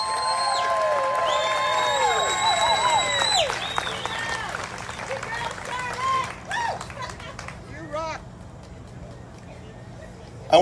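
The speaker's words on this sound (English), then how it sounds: "Big round of applause for Charlotte." Outdoor rally crowd applauding and cheering for a speaker, a broad wash of clapping with whoops and shouts that gradually thins out toward the end.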